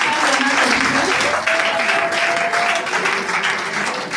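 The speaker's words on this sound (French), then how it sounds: "Acclame pour Jésus." A church congregation claps for Jesus in loud, sustained applause that fills the whole stretch, with a steady tone and some voices faintly underneath.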